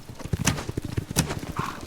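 Hoofbeats of Mongol horse archers' mounts in the Age of Empires IV video game, a quick uneven clatter of clip-clops at close range with a brief whinny near the end.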